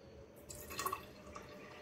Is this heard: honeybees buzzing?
no